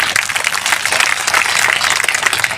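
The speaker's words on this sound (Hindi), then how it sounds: "ऐसे व्यक्ति के लिए ताली बजना चाहिए कि नहीं? जरा ये ताली बजी नहीं," A crowd at a BJP district political rally applauds steadily, dense overlapping clapping filling the space without pause for the whole moment.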